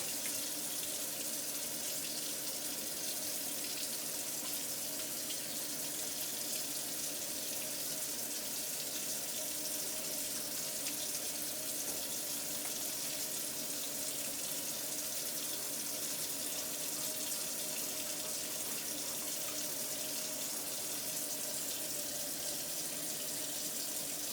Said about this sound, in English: apply 3 to 5 milliliters of antiseptic bacterial soap. And I'm going to wash each surface of my hand 5 times each.